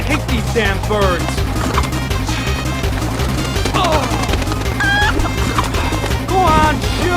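Birds cluck and squawk repeatedly in Final Fantasy XVI, the calls scattered over loud gunfire, crashes and music in a chaotic game battle.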